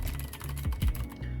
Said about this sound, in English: the rubber keycaps sound like this.